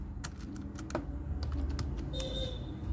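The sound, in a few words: typing on computer keyboard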